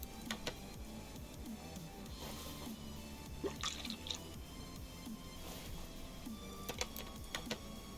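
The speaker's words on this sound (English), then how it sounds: "Just refill the washer and then change the coolant." Washer fluid being refilled in the Car Mechanic Simulator 2021 video game, a soft steady trickle of pouring liquid with small clicks and drips, quiet and close with no talking.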